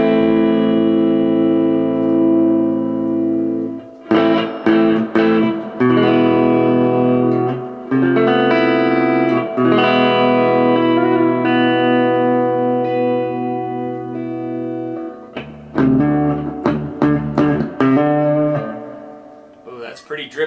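Electric guitar chords ring through the old spring reverb tank of a vintage Peavey Classic 50 amp, sustained and loud with a splashy, dripping tail, played in several strummed bursts separated by short gaps.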